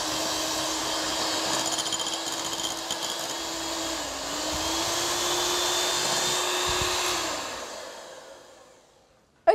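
An electric whisk whirs steadily while beating egg whites with apricot jam, a close, constant motor whine that dips briefly in pitch midway, then winds down and stops near the end.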